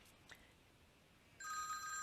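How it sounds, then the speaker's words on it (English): A mobile phone rings at a woodturning demonstration, a bright electronic ringtone starting suddenly after a quiet stretch of workshop ambience and continuing steadily, fairly close. "And then I'm going to turn my dang phone off."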